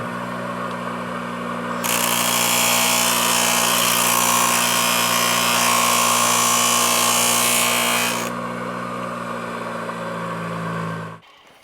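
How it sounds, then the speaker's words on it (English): A grinder with a sanding pad whines steadily, its motor humming while a harsh abrasive rasp against a zinc-plated bolt swells for several seconds as it removes marks. "this is just a sanding pad that I can take these marks off with"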